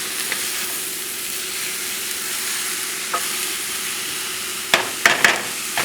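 Onions and cabbage sauté in a pan with a steady, close sizzle, broken near the end by a few utensil scrapes and knocks as the vegetables are stirred.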